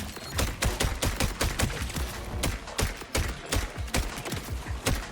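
Rapid gunfire bursts from Borderlands 4, a first-person shooter game: dense, loud volleys of repeated shots with sharp cracks and booming low ends, continuing steadily throughout with no pauses and no talk.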